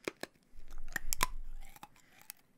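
Hard, crystal-like American candy being crunched between the teeth, a handful of sharp, close cracks over a low chewing rumble.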